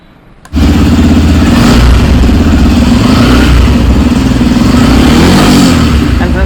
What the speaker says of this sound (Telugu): ఒకసారి ఎగ్జాస్ట్ సౌండ్ ఎలా ఉందో ఒకసారి చెక్ చేద్దాం ఫ్రెండ్స్.